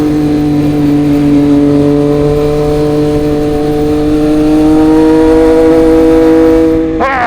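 A Triumph Street Triple 765 RS motorcycle engine hums steadily in third gear on a ride through twisty roads, its loud, smooth whine slowly rising in pitch before a sharp rev near the end, with no talking.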